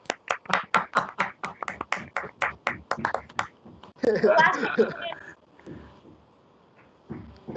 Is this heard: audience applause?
yes